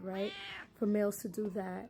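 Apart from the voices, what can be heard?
pet cat meowing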